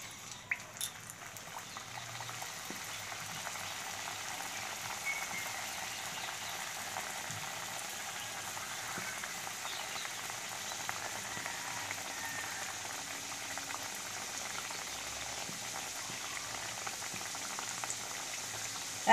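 Pea-stuffed kochuri puris frying in hot white oil in a kadai on a gas stove, a steady, soft bubbling sizzle that holds evenly throughout, with no one talking.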